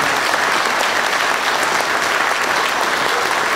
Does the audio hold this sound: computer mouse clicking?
no